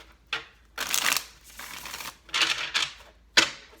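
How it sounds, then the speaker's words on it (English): Several bursts of tarot cards being shuffled, crisp riffling and slapping in quick runs separated by short pauses, close and clear with no talking. "We're going to have one more shuffle."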